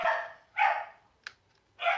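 A dog named Ivy barking indoors, three short loud barks spaced about a second apart with a brief yip in between, moderately close.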